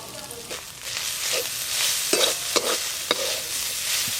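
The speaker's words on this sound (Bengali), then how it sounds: "চিকেন কিমা তো কষতে খুব বেশি সময় লাগবে না, চাপা দিতে হবে না, নাড়তে নাড়তেই হয়ে যাবে।" Chicken mince filling is stirred in a sizzling pan, with soft repeated spoon scrapes and a few sharper knocks against the pan over a steady frying hiss, close and moderately loud.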